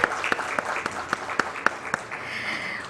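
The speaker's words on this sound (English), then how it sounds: "Let's begin this beautiful event with a huge round of applause" An audience at a corporate launch event applauds, with a dense ripple of clapping and a few louder individual claps standing out in a steady rhythm before it thins away.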